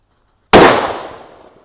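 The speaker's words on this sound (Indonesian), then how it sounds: "ini ada mercon happy flower warna ungu" A purple happy flower firecracker goes off by a river with one sudden loud bang that cuts in after a moment of quiet, then trails off in a broad fading rumble.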